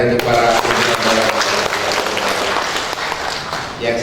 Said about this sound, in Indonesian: Tepuk tangan ini untuk para pimpinan daerah.